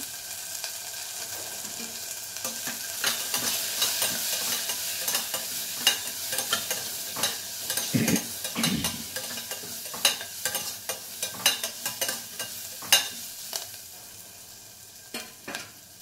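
Onions fry with turmeric in a pan, a continuous sizzle broken by repeated stirring scrapes and clicks of a utensil, close and moderately quiet, no talk.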